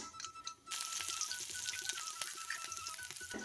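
Mustard seeds and urad dal sizzling in hot oil for a tomato sambar tempering, a sudden loud steady hiss starting after a quiet moment and crackling on close by.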